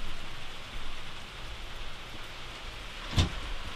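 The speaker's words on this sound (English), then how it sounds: "the rain on the roof seems to have slowed down" Steady rain pattering on a roof during a hurricane, a dense even hiss throughout, with a brief louder knock or gust near the end.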